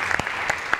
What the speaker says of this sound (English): we should all clap for that